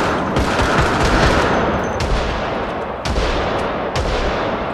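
Rapid gunfire in the zombie survival game Project Zomboid, a dense continuous barrage of overlapping shots with sharp cracks standing out roughly once a second, loud and close throughout.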